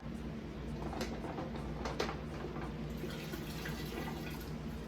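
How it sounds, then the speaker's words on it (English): Hot water splashes and trickles steadily into a sink as it is dumped out while making blackberry jam, a continuous pouring with a few brief clinks, fairly quiet and close. "So we take those out, dump out the hot water."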